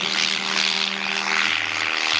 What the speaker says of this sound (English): So this one plane comes in to grab Tom and drops off my new guy